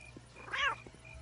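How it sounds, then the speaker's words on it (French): A single cat meow in the video game Postal 2, a short rising-and-falling cry at moderate volume over faint background hum. "Oh, un chat."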